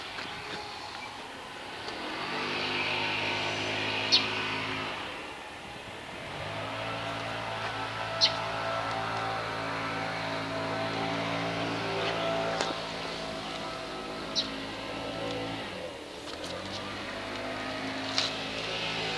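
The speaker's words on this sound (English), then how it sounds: "I apologize for the blower." A neighbor's leaf blower drones steadily for the whole stretch at moderate level, with its pitch wavering and dipping briefly a couple of times, plus a few faint clicks on top, and nobody talking.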